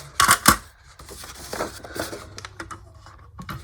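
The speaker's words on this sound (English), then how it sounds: "then we just cut this piece of paper like that" A paper cutter slices a sheet of scrap paper for a handmade envelope, with two sharp close cutting strokes at the start, then softer rustling and handling of paper.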